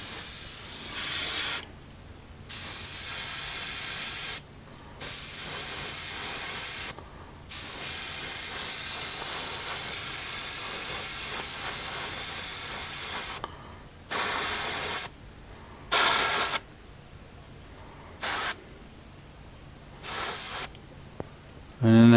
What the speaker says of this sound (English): I'm just going to spray this red